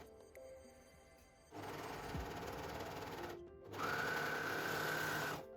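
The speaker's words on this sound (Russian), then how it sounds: "Чашки я буду складывать лицом к лицу и прокладывать строчку на оверлоке." An overlock machine stitches a seam on bra cups in steady whirring runs. A brief pause separates two stretches of stitching, and the second is slightly louder and higher-pitched.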